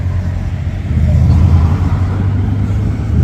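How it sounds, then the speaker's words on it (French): A Ferrari Portofino followed by a Ford Mustang drives past on a city street, a deep, steady engine rumble that swells slightly midway, fairly loud and close. "Petit combo là, on a la Portofino et derrière on a une Mustang"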